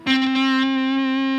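An electric guitar played through an Ibanez MS10 Metal Charger distortion pedal rings out as a sustained, compressed distorted note. A few quick picked attacks come first, then one held note sustains loudly to the end.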